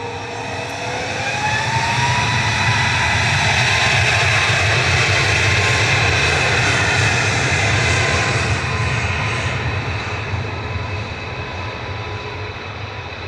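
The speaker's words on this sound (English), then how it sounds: "First of the two air tankers lining up now from Tango 1." An air tanker aircraft's engines roar steadily at Manchester Airport while it lines up for departure, a loud, broad, sustained drone with a whining tone that swells and eases slightly over thirteen seconds, with no talking.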